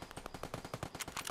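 A rapid burst of gunfire in Escape From Tarkov cracks out during a night raid, several quick shots close together and loud throughout.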